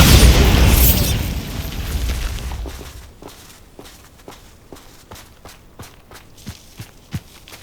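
Spell explosions from Bombarda in Hogwarts Legacy: a loud, booming blast that decays over about three seconds, followed by a run of sharp, irregular pops and thuds, with no talking.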